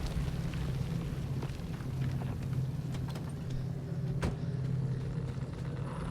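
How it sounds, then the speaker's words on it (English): A malfunctioning car engine in the video game Pacific Drive gives a steady, loud, rough rumble with a low drone, scattered crackles and one sharp clank near the end, with no talking. "Something's wrong with the engine."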